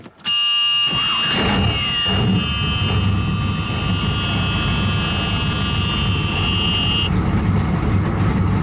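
A 1976 Corvette C3 with a carbureted engine cranks and then catches, settling into a loud, steady idle. A high whine rings over the running engine for most of the clip and then cuts off.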